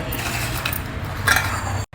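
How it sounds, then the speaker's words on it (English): Electric blender grinding store-bought cookies into fine powder, a steady whirring churn with rattling inside the jar that runs continuously and cuts off abruptly at the end. "Now we'll transfer these cookies into our blender jar and make it into a powder."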